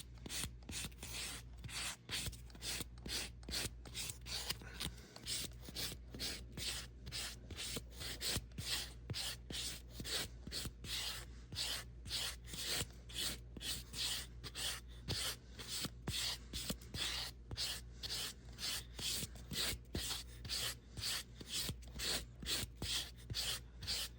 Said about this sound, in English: So I'm going to have to continue some sanding